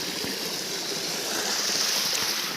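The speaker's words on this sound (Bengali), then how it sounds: "দেখুন স্রোত বয়ে আসছে" Stream flowing near a marble lake, a steady broadband rushing of water, close and continuous with no talk over it.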